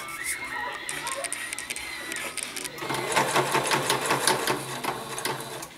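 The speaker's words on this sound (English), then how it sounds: "So, just show you a little bit of that sewing." A sewing machine stitches feather trim onto bias tape, its rapid mechanical whir running steadily and growing louder and busier in the second half, close up with no talking.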